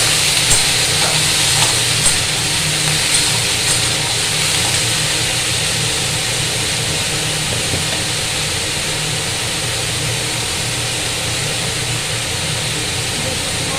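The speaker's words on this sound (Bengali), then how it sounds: "আলুগুলো ভাজা হয়ে গেল, দিয়ে দিলাম জিরে।" Cumin seeds dropped onto fried potatoes in a pan set off a steady, close sizzle, a dense continuous frying hiss that holds evenly throughout with faint stirring clicks and no talk.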